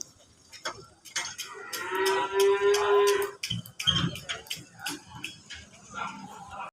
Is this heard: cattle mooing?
yes